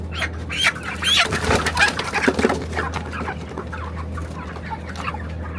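A group of broiler chickens clucks nearby, with overlapping calls and a steady background hum.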